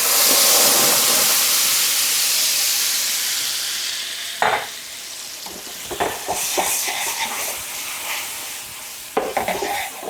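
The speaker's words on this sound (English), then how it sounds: "let's take some olive oil, a tablespoon or so, put it in our pan, and we're going to add our tomatoes" A tablespoon of olive oil and crushed tomatoes hit a hot pan, a loud close sizzle that fades gradually, then bursts of stirring scrapes and renewed frying hiss toward the end.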